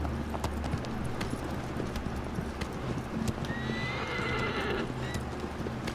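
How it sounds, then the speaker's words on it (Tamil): A horse in Shadow of the Colossus gallops with rapid, continuous hoofbeats and lets out a drawn-out neigh partway through, set against low droning game ambience with no voices. "நல்ல பரவாயில்ல, குதிரை வேகமாக தான் போகுது."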